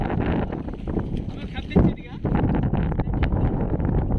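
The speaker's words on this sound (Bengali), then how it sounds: "জাল যাচ্ছে না বন্ধুরা, হাওয়ার জন্য," Gusty wind roars over a river during a fishing outing, a loud, steady buffeting rumble with a short dip near the middle before it surges back at full strength.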